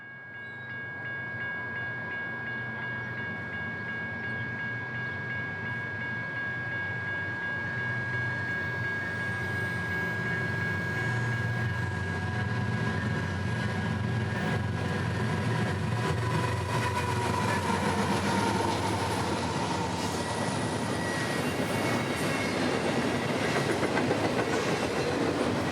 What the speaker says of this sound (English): another Union Pacific freight shows up, this one led by a GE ES44 and another SD70 Ace.